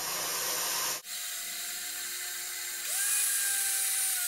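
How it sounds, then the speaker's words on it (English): A small, cheap blender grinds quail feed down to a fine cornmeal-like texture. A loud burst opens, then a steady motor whine runs alone and climbs in pitch near the end. "this handy blender"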